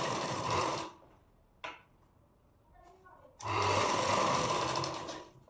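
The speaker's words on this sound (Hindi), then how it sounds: "मैं भी दूसरी सिलाई लगा रही हूँ।" Two short bursts of close, loud sewing machine stitching on a princess-cut deep-neck blouse, with a quiet gap between them that holds a small knock and faint handling.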